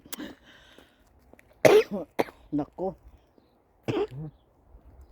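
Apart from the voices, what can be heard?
coughing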